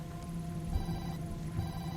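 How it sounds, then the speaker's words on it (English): A telephone rings from inside a filthy paper bag in the video game Tokyo Dark, a repeating electronic trill in short bursts over low background hum, close and without talk. "Ringing's coming from inside."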